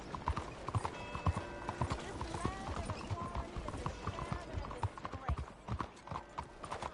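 Horse hooves clip-clop at a steady trot in Red Dead Redemption 2, with an occasional whinny. Game music and voices talking run over the hoofbeats throughout.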